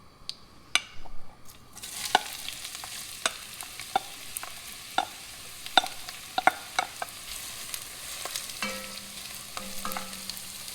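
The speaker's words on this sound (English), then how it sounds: "we're gonna put our onions in" Onions hit hot oil on a stovetop while making Texas chili, starting a steady, close sizzle of frying broken by scattered clicks and scrapes of stirring.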